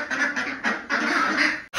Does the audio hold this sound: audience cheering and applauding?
no